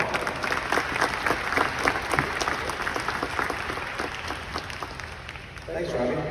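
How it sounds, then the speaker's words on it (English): A crowd applauds warmly at a VCU athletics event as the athletics director is brought to the stage, the clapping steady and dense before tapering, with a voice starting to speak near the end. "please bring to the stage a warm round of applause to our Director of Athletics and Vice President"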